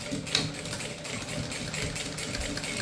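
Sewing machine stitching back and forth to join a fabric pocket to the base of a phone holder, a steady close mechanical whir with a rhythmic needle patter running throughout.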